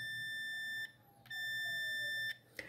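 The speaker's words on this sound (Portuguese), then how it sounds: "Vamos colocar ele na escala do teste sonoro aqui, né? Que é o teste de continuidade, ó. O teste do bip" A multimeter set to continuity test mode gives a steady high electronic beep twice with a short gap between, close and clear, while checking a Mondial fan's plug and wiring for a blown fuse.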